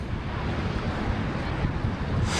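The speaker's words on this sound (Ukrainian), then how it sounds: "Вітерець є, але ось тут море прям дуже спокійне." A steady breeze blows across the microphone beside the calm sea at a beach in Vlorë, Albania, a continuous rumbling wind noise with faint surf underneath and no talk.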